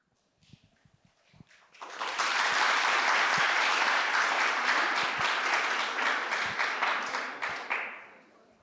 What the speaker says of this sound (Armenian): Շատ իզուր եք ծափ տալիս